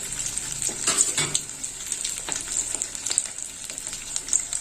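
Besan- and spice-coated cauliflower pieces fry in a pan of hot oil with a loud, bright, continuous sizzle, broken by crackling bursts and light scraping, and no voices.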